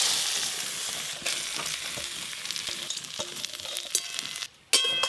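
Washed mung dal frying in hot mustard oil, a loud dense sizzle that carries on with stirring scrapes, then briefly drops away before flaring up again.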